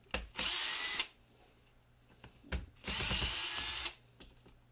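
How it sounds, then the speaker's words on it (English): A power driver whirs in two bursts of about a second each, backing screws out of a toy's plastic battery and control box, with small clicks and handling sounds between. "we're going to take the screws out of this battery box and control box"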